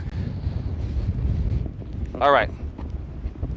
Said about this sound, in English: Man, it is really windy